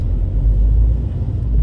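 Citroën van engine under full throttle, a steady low rumbling drone held loud and continuous with no voices.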